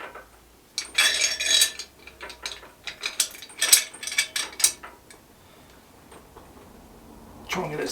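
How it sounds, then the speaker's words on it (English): A ratchet clicks in quick bursts as nuts are tightened on a homemade anchor, the close, sharp pawl rattles coming in several runs with pauses between them. "I'm going to go ahead and tighten these 2 nuts up"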